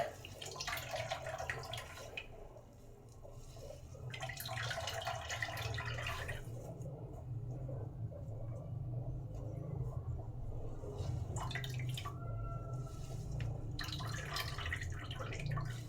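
Freshly squeezed coconut milk drips and trickles by hand into a container, coming in several short wet bursts over a steady low background hum, close by, with no talking.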